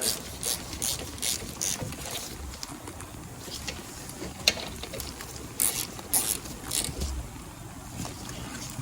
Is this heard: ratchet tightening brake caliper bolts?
yes